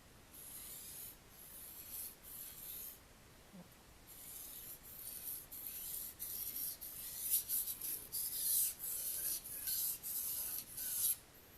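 A knife blade scrapes across a sharpening stone in repeated even strokes, a dry close rasping that comes in steady passes and grows slightly louder toward the end, with no voices.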